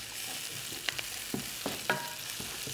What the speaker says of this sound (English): you can hear and see the mustard seeds popping, which means that their flavour's coming out